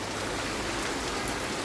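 Heavy rain pouring steadily outside a shop, a dense even hiss of falling water with no breaks or voices.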